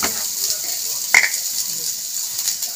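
Ridge gourd peels hit hot mustard oil in a pan and give a short, bright sizzle with a sharp crackle near the middle, held steady and close.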